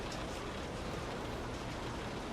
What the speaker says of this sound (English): Listen to the rain outside these windows.